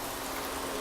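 Red pepper hitting a hot pan with browned pancetta for chicken cacciatore, a loud, dense hiss of sizzling fat, brief and continuous with no talk.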